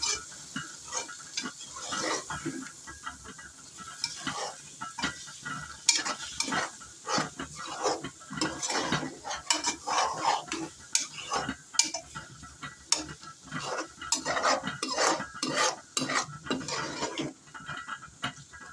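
A spatula stirs and spreads mushroom and egg fry around a pan, giving continuous close scraping and clattering strokes over a steady sizzle, with no voices.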